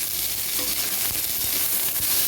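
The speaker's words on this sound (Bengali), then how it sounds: "তার আগে ডাটাগুলো ভেজে নিই" Vegetable stalks fry in a hot pan with a little salt, giving a continuous close sizzle with faint stirring scrapes, no voices.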